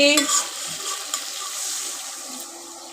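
Water is poured into a pot of frying jute leaf curry, giving a brief splash and sizzle followed by bubbling and stirring noises, fairly close, with no talk.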